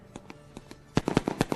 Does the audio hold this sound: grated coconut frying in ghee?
no